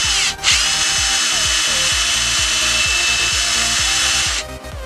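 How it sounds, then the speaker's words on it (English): A power drill bores out a plastic vacuum line connector on a 1996 Dodge Ram 1500, running steadily and loud with a high whine and rapid repeated grinding pulses for several seconds. "we're going to be drilling it out so we can fit the bigger hose through."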